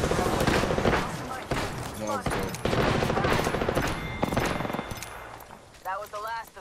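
Gunfire during an Apex Legends match on Kings Canyon, rapid overlapping shots and bursts running nearly throughout, loud and dense, mixed with game sounds while players talk over it.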